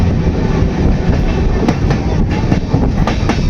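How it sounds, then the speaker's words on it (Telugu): A train rumbles loudly along the track above a river in the mountains on the route to Katra, with a continuous heavy roar and rhythmic clickety-clack of wheels passing over rail joints. "పైనుంచి మన ట్రైన్ అయితే వెళ్తుంది"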